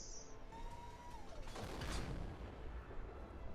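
A Type-59 tank gun fires a single heavy round at an E75 turret in a video game: one loud booming blast that decays into a rumbling tail over steady background noise.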